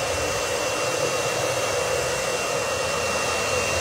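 A hair dryer blowing, a loud, steady close-up whoosh of air with an even motor hum that runs unchanged throughout.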